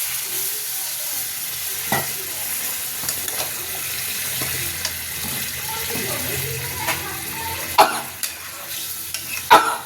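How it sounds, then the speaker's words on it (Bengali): Spices and food sizzle and scrape in a pan under steady stirring, with a few louder clanks of a utensil against metal near the end. "এখন কষা হবে"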